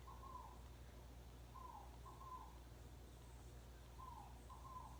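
Birds calling outdoors, faint and distant: short repeated cooing-like phrases recur a few times over a low steady background hum.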